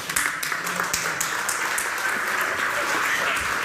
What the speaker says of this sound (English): Clap, maybe?